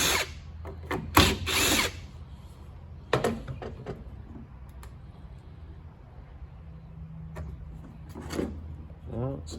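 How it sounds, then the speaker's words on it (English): Power tool working screws out of a Zodiac CX20 pool robot, giving short whirring bursts and clicks mixed with handling clatter, with a person talking in between. "Got to take these 2 screws out."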